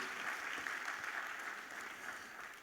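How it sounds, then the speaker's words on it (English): Audience applause from a crowd at a big data keynote speech, steady sustained clapping that fills the whole stretch at moderate level with no talk over it. "Can we just put a round of applause for that"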